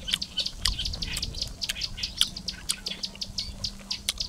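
Many birds chirp and tweet in quick, overlapping bursts, a busy chorus over a low background rumble.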